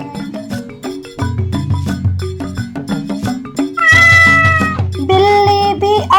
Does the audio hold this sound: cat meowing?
yes